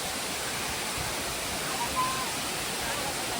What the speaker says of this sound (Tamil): ஸோ அங்க இருந்து பாத்தீங்கன்னா கீழே தாங்க தண்ணி வந்துகிட்டே இருக்கும்.